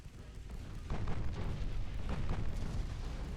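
A naval shell strike setting off an ammunition detonation in the naval battle game Ultimate Admiral Dreadnoughts, a deep rumbling boom that swells after a second and holds as a dense, roaring wash of low explosive noise.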